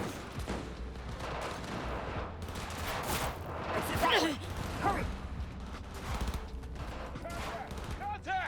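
Gunfire in the Cyberpunk 2077 video game rattles in dense, continuous bursts with whooshing effects, while a voice talks over the shooting.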